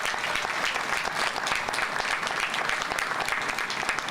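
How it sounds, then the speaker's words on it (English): A crowd at a Father's Day pledge signing ceremony claps in a brief, dense burst of applause, even and continuous from start to finish. "Let's have another round of applause."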